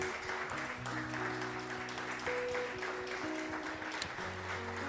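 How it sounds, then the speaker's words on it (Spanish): Congregation applause during a church service, a steady wash of clapping under sustained organ or keyboard chords, moderately distant and even throughout. "Damos un fuerte aplauso a nuestro Dios en esta hora"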